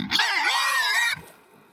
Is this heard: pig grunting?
yes